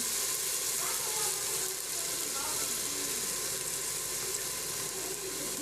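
Ginger garlic paste and salt hit a pan of browned onions with a steady, hissing sizzle, frying continuously at close range while someone talks over it.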